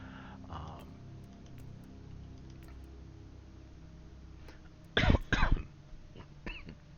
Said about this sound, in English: I've got this nasty cough